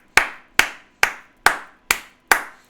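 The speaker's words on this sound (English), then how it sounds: "I gave one clap at the end of the movie." Single sharp hand claps ring out one at a time, six in an even, unhurried rhythm about half a second apart. Each is crisp and close with a short decay, in a quiet room without talk.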